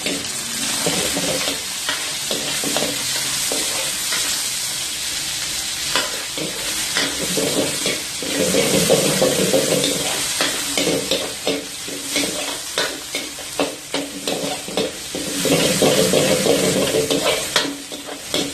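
Chicken pieces and garlic sauté in three tablespoons of hot oil in a Karachi street-food kitchen, a steady loud sizzle broken by repeated scraping stirs and clanks of a spatula throughout.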